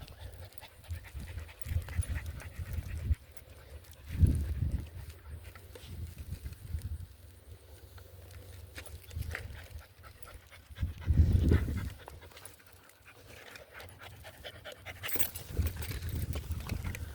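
Tired dogs panting out on an outdoor adventure, rapid rhythmic breaths close by with occasional louder bursts and rustling movement throughout.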